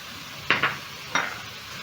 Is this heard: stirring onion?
yes